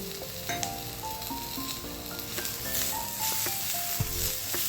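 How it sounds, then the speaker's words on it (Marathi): Garlic and a large tomato sautéing in a pan for misal pav, giving a continuous close sizzle with occasional spatula taps and stirring clatter. "थोडासा लसूण एक एक मोठ्या आकाराचा टोमॅटो घालून छान परतून घेऊया"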